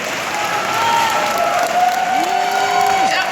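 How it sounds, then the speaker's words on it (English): A high school commencement crowd claps and cheers in a large hall, a sustained wash of applause with whoops and a couple of rising whistles or shouts rising above it. "Everybody in here should be clapping."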